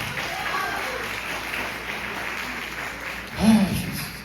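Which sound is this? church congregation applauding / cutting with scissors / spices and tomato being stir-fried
church congregation applauding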